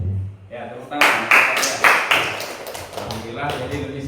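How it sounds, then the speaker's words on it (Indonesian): A short burst of clapping from a group at a school, starting after a brief pause and fading out over a few seconds, close and fairly loud. "Ya, tepuk tangan."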